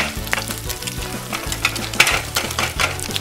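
A toy grill playset gives off a continuous electronic sizzling, like patties frying, with rhythmic low tones repeating beneath the crackle, close and fairly loud.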